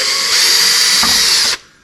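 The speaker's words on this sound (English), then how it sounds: "we'll do that small pilot hole" Power drill boring a small pilot hole in plastic during a Toyota GR86 carbon fiber ground effects installation; a loud, steady high whine holds for about a second and a half, then cuts off abruptly.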